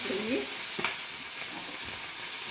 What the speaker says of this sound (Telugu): లో టు మీడియం ఫ్లేమ్లో ఫ్రై చేసుకోండి